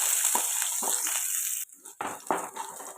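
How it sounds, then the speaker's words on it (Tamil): Chopped garlic sautéing in hot oil with curry leaves in a pan, a steady close sizzling hiss that briefly dips then resumes with stirring, while a voice talks faintly underneath. "இப்போ இந்த பூண்டு இந்த எண்ணெயிலே கொஞ்சம் வதக்கலாம்."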